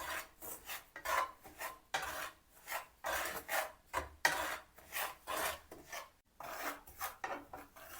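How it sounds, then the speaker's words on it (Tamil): Semolina being dry-roasted in a pan without ghee, giving a steady scraping and rasping as it is stirred in repeated strokes, near and fairly loud, with no voices. "இன்றைக்கு நான் இதுக்கு நெய் எதுவும் சேர்க்காம தான் வறுக்க போகிறேன்"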